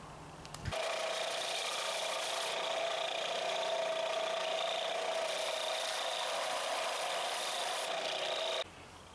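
A vintage Collins splitting axe head is sanded with 120 grit sandpaper, probably on a power sander, a steady loud abrasive whir that starts abruptly, holds for about eight seconds, then stops.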